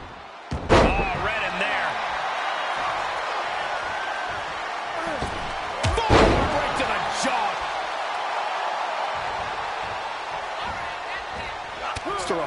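Heavy thudding forearm slams in an Elimination Chamber wrestling video game ring out a few times over a constant crowd roar, with loud impacts near the start and again midway.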